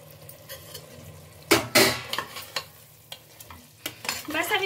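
Coriander and mint are stirred into roasted egg biryani masala in a pressure cooker pot, with a spoon scraping and clanking against metal in sharp bursts over a soft sizzle.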